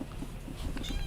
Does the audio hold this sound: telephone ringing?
no